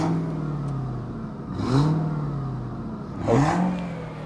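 A big V8 engine in a limousine from California revs twice, each rev rising and then settling back over a steady idle rumble, heard from a distance toward the rear of the car with no talking.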